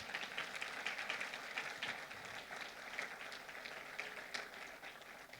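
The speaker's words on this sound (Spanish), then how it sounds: "Dale un fuerte aplauso a Jesús." A church congregation applauds for Jesus during a Spanish-language sermon, a steady wash of many hands clapping that holds fairly even for several seconds, heard from a little distance and alone.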